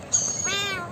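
A blue Indian parrot imitates a cat's meow in a single close, clear, rising-and-falling call lasting under a second, with no other voices.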